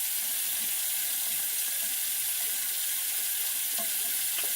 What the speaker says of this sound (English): Wetting my hair up again. Put some water.